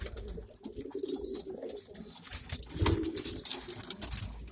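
Pigeons coo softly in a loft, low murmuring calls layered over rustling, shuffling and faint background noise, with a brief louder flutter near the end.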